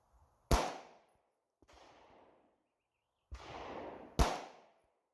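A Tisas 1911 pistol fires 124 grain S&B ammunition at 25 yards: three sharp, loud reports spaced apart, each trailing off in a brief echo, with softer impacts or echoes between.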